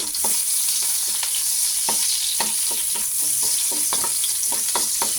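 Onions for pancit fry in hot oil with a constant loud sizzle, punctuated by regular scraping strokes of a spatula against the pan, close-up and with no talking.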